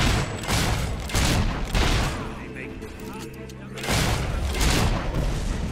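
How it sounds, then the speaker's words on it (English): Mortar and battle fire rumble in the video game Fable 3 as repeated heavy booms and blasts with a lull in the middle, under a player talking. "Let's go take care of that mortar."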